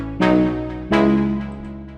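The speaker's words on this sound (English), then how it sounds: "Then another layer are these chords over here, which is a serum preset" Two bright, full synth chords from a Serum preset in a future trance track, each struck hard and then decaying slowly, the second arriving about 0.7 seconds after the first. No voices.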